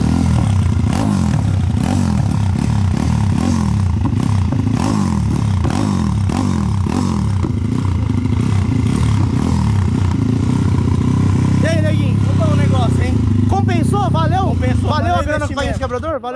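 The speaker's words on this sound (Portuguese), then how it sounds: "parece que a moto tá girando bem mais agora" A motorcycle with a 70mm OHC engine and a new carburetor revs hard and loud for a long stretch, its exhaust rising and falling in rapid pulses, then rattles and climbs again near the end.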